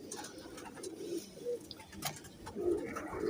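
Perwazi pigeons cooing softly in a loft. Several low, rolling coos repeat in short bursts, fairly close and moderately quiet, with a few light rustles between them.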